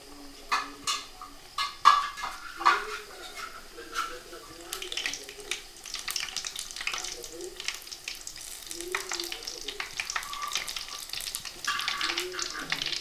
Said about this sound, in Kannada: ಒಂದೊಂದೇ ಎಣ್ಣೆಯಲ್ಲಿ ಹಾಕುವ. ಎಣ್ಣೆ ಒಳ್ಳೆ ಕಾದಿರಬೇಕು ಮಾತ್ರ.